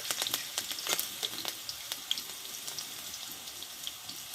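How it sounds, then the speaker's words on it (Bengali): Green chillies and panch phoron fry in hot oil, making a steady close crackling sizzle with sharp spitting pops scattered throughout. "কয়েকটা কাঁচা লঙ্কা চেরা তো কাঁচা লঙ্কা আর পাঁচফোড়নটা ভালোভাবে ভেজে নিয়েছি"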